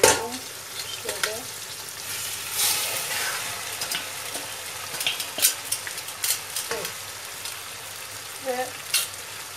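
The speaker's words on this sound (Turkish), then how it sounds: "kavurduktan sonra makarnamı da ilave ediyorum" Pasta toasting in a pan, stirred repeatedly so the steady frying sizzle is broken by scraping strokes and light clinks of the utensil; a voice briefly speaks near the start.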